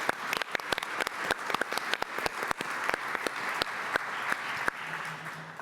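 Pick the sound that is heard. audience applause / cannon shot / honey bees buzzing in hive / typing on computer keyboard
audience applause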